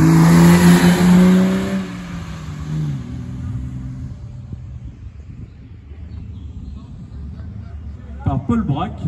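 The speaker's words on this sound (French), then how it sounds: "Linda de Pommier avec la BMW 320 dans la catégorie VHRS" A BMW 320 race car in the VHRS class roars past at the Seyssel hill race, its loud engine note sweeping down and fading into the distance, followed by quieter background noise and a brief voice near the end.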